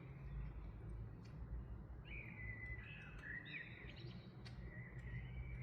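Birds singing on a summer evening near blooming roses, a small bird's bright chirping phrases rising and falling after a couple of seconds, fairly close and clear over a steady low rumble of background noise.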